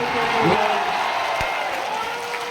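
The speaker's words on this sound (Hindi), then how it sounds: "मैं चाहता हूं एक बार जोरदार ताली से आप लोग राजेश वर्मा का भी यहाँ पर स्वागत करें।" Crowd at a political rally for Chirag Paswan cheering and clapping to welcome Rajesh Verma, a dense continuous wash of applause with whoops, fairly loud and close.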